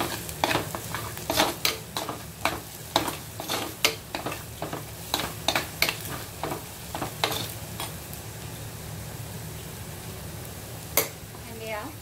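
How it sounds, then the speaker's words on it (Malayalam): Onions with turmeric powder sautéing in a pan for a raw mango curry, a steady sizzle broken by repeated sharp scrapes and clinks of a spoon stirring against the pan, close and fairly quiet. "നന്നായി ഒന്ന് സോട്ട് ചെയ്യാം"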